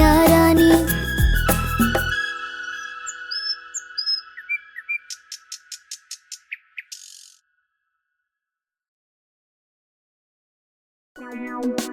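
A bird chirps in a quick series of bright, evenly spaced tweets after a burst of music, then falls silent before the music returns.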